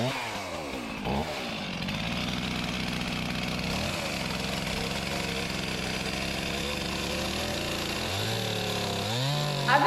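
A chainsaw cuts the jagged end off a sinker cypress log, engine roaring loud and close and holding steady, with brief revs at the start and end.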